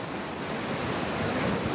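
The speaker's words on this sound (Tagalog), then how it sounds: "nakikita nyo yung mga hampas ng alon dito" Waves crashing on the shore near Sual to Alaminos, a steady broad roar of surf with wind rushing across the microphone, faint and continuous with no voices.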